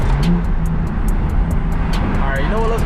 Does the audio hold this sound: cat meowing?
no